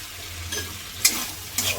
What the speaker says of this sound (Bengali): হলুদ দিয়ে এখন এটাকে কষাবো, মশলাটাকে কষাবো।